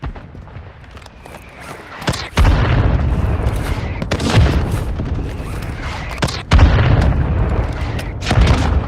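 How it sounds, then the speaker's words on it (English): Mortar strike explosions in the Warzone Mobile video game, with several loud, heavy booms landing in succession over a continuous rumbling battlefield backdrop, each blast erupting sharply close by. "Mortar strike inbound now."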